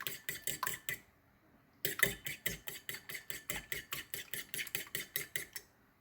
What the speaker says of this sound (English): I'm going to whisk them together to add to my sugar and butter mixture.